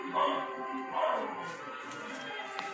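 Dogs bark and yelp at a distance in a rural Cambodian village, a faint, persistent chorus of overlapping barks under a low background hum.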